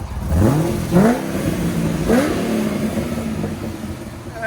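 A cammed Chevy Corvette Z06 7.0L V8 with headers and Corsa sport exhaust revs up sharply three times, each rise followed by a settling idle rumble, loud and close.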